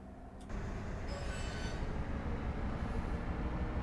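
A train on the Fife Circle Line in Train Simulator 2021 pulls away after its brakes release, with a sudden rise into a steady low rumble and a brief metallic squeal early on.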